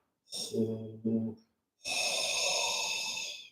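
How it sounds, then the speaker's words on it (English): Guttural qigong whisper breathing drawn from the back of the throat: two short rasping breaths, a brief pause, then one long, loud, hissing breath with no words. "you're breathing from the back of your throat"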